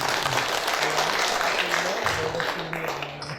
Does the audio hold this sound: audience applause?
yes